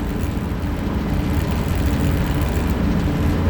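A truck engine warming up while idling, a steady low rumble that stays even and fairly loud from start to finish with no voices.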